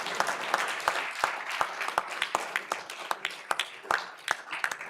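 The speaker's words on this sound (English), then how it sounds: "McGreevy started the applause." Sparse applause at an evening criminal justice event, a small group clapping in distinct, irregular claps with noticeable gaps, moderately close and unaccompanied by talk.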